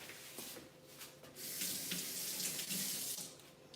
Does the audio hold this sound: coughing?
no